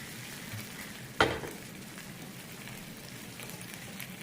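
Masala, two tablespoons, frying in a pan on a low flame for fish head manthi: a steady, soft, close hiss with one sharper crackling burst as the spices hit the oil, then settling back to a gentle sizzle.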